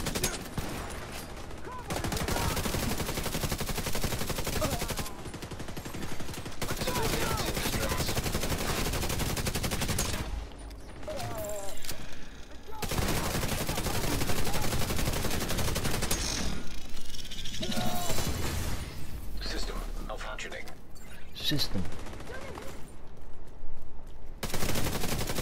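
Rapid automatic gunfire from a weapon in the co-op shooter The Division 2, long loud bursts of rattling shots broken by brief pauses, with other combat noise mixed in.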